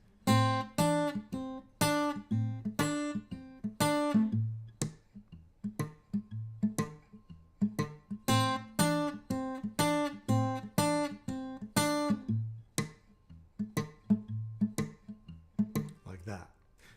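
Electric bass plays a quarter-note blues groove with muted ghost notes between the main tones, steady and clear, each phrase repeating in short two-bar cycles with brief gaps, no voices over it.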